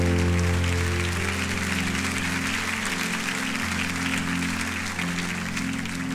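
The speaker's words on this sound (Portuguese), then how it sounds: "Aplauda ao Senhor bem forte, porque Deus é fiel" A church congregation applauds during a service, broad continuous clapping over a sustained keyboard or organ chord that shifts partway through.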